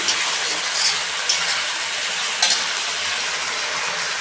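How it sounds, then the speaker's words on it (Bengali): Chicken frying and being stirred with spices in a pan, steady dense sizzle with occasional scraping stir strokes, close and continuous without talk. "মশলার সঙ্গে মাংস ভালো করে কষিয়ে নিয়েছি"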